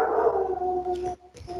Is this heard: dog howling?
yes